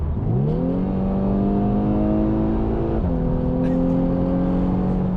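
2017 VW Scirocco R engine revving hard on automatic kickdown: a loud, close, rising engine note that climbs and holds, then steps down briefly with a gear change before pulling on steadily.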